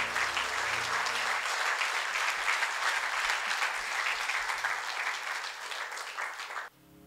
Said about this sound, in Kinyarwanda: Amashyi menshi ku Mwami Yesu.